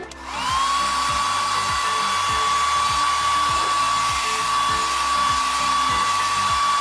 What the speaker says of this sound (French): Et il te reste maintenant de sécher les cheveux.